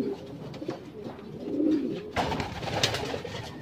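Pigeons coo softly nearby, a few low, rolling calls repeating over a quiet outdoor background with faint rustling.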